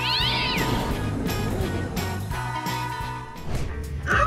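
A cat meows and yowls loudly in protest while being posed for an exhibition, giving repeated drawn-out, strained cries close up.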